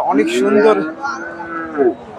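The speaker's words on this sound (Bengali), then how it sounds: "অনেক সুন্দর একটা শাহিওয়াল জাতের ষাঁড় গরু দেখতেছি" A Sahiwal bull at a busy cattle market gives one long, loud moo lasting most of the moment, close by, with a brief second bellow near the end.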